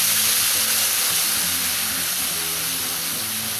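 Onions fry in a pan, giving a steady, bright sizzle that holds constant and fairly loud for a few seconds with no talking.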